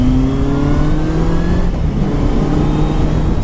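A Kawasaki Z800 motorcycle engine revs and pulls while being ridden, its tone climbing as it accelerates, loud and close, with a steady whir of motion beneath.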